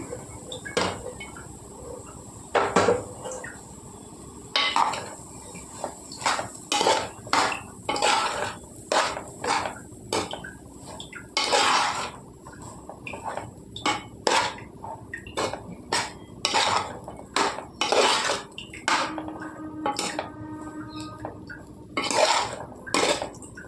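Cooked rice is tossed and mixed in a pan for vegetable fried rice, with a run of sharp metallic clanks and scrapes of a spoon against the pan, irregular and close, some strokes louder than others, and no voices.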